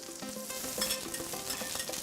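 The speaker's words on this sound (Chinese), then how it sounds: "煎的时候刮铲一定用力，就是贴着那个铁板，用力的铲上来，它才不会粘锅。" Vegetarian shark fin fries on a hot iron griddle in a Chaozhou kitchen, with continuous close sizzling and a metal spatula repeatedly scraping firmly against the plate in quick strokes.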